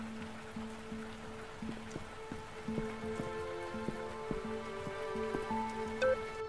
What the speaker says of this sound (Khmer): ដោយសារតែភ្លៀងធ្លាក់ខ្លាំងជាច្រើនថ្ងៃជាប់ៗគ្នា